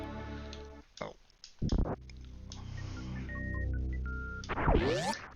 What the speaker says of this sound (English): Why am I getting 3 notifications at once on my phone?